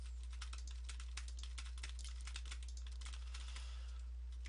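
Fingers type text on a computer keyboard, a quick irregular patter of light key clicks running continuously over a low steady hum.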